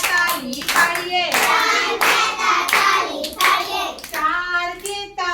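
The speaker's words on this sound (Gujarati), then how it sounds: "ત્રણ કેતા તાળી પાડીએ" Children clap their hands in a rhythmic series of sharp claps over their own sing-song chanting of a counting rhyme, close and lively throughout.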